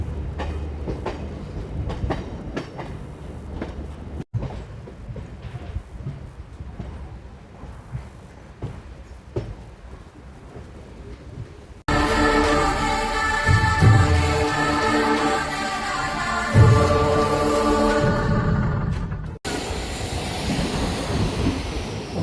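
A Machilipatnam to Gudivada MEMU express train runs along the line, its wheels and carriages rumbling and clattering, growing noticeably louder and harsher partway through before dropping off again.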